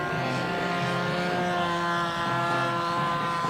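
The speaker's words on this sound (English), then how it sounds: "Come on, Snoopy, throttle up, throttle up." A model Snoopy flying dog house aircraft at an air show, its small engine droning in a steady, buzzing whine at full throttle, holding an even level throughout.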